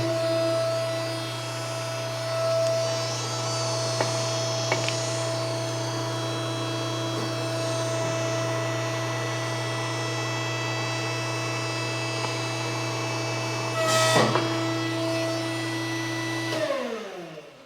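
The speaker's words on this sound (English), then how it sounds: "So I'm going to turn the pump on, extend the mandrel forward" A hydraulic pump on a pipe bender runs to extend the mandrel, giving a loud, steady motor drone with strong hum throughout, a brief surge near the end, then shutting off.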